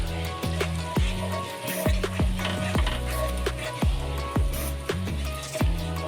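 Masala paste for shahi paneer sizzles as it is sautéed in a pan. A spoon stirs and scrapes it in a steady rhythm of about two strokes a second, close and clear.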